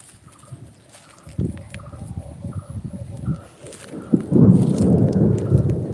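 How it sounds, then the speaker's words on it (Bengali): Thunder rumbling low in the sky, a building roll that swells loudest toward the end, heard outdoors with faint background noise and no talk. "হয়তো শুনতে পাচ্ছেন এই যে আকাশের কি জোরে জোরে গর্জন দিচ্ছে আর কি মেঘ ডাকছে"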